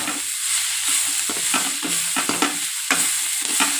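Onions sauté in a kadai for an egg gravy: a spoon scrapes and stirs in repeated strokes over a continuous close sizzle, with no voices.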